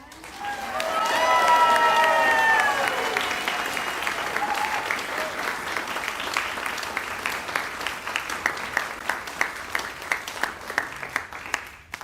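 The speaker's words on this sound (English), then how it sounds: "I want you to give them a big round of applause, everyone" An audience at a martial arts demonstration applauds, with cheers and whoops rising over the clapping early on, then settles into steady sustained applause that grows sparser and more distinct toward the end.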